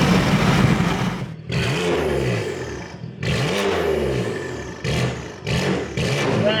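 A straight-piped 2016 BMW M3 with the S55 engine revs hard and close, loud raspy blips rising and falling in several bursts with brief drops between them and crackling on the lift-off.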